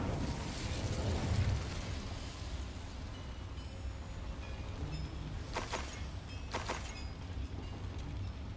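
Incendio fire spell in Hogwarts Legacy, cast inside a mine near a boiler: a muffled roaring burst with a low rumble early on, then a steady hiss and two brief bright crackles later, under game ambience.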